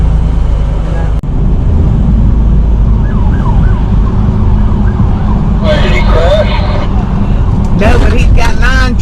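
Police sirens from several trooper cars chasing a vehicle on Interstate 80, wailing and yelping over a constant loud truck cab rumble, rising in bursts toward the end.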